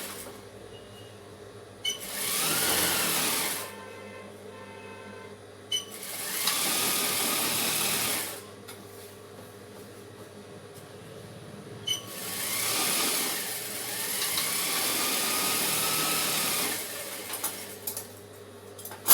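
A sewing machine stitches the hem of a Patiala pant in four separate bursts of rapid mechanical whirring, each lasting a couple of seconds with quiet pauses in between.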